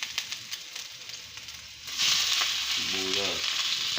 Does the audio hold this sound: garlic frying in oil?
yes